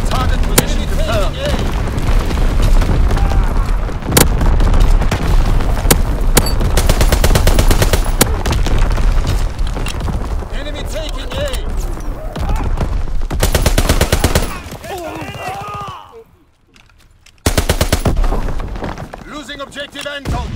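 Artillery and heavy weapons fire in Call of Duty: WWII on the Shipment 1944 map during a domination match: dense, loud bursts of booming shots and rapid gunfire keep rolling, with a brief lull near the end and game voice callouts over the din.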